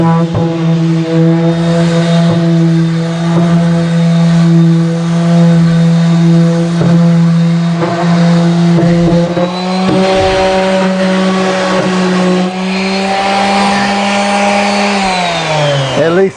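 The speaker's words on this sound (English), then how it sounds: "So, I'm going to spend some time sanding" A power sander works over a vanity cabinet drawer, giving a steady, loud motor drone close by that holds one pitch throughout and sags slightly near the end.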